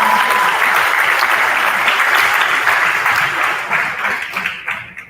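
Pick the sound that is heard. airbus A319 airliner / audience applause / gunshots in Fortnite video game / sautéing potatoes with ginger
audience applause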